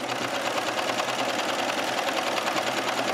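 A domestic sewing machine runs steadily, stitching along the edge of an elastic skirt waistband with a fast, even mechanical whir and rattle, close and uninterrupted for the whole stretch.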